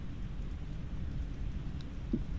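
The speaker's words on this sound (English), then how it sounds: "It's out of the rain." Rain falls in a steady, low, muffled rush that continues evenly throughout, with no voices present.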